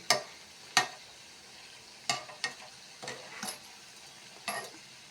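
Palm (taal) pitha fritters frying and puffing up in hot oil: a steady soft sizzle punctuated by several sharp clinks and scrapes of a utensil against the pan, close by.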